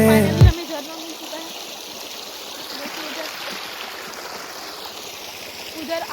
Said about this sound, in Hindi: पूरा पानी इधर से बहता है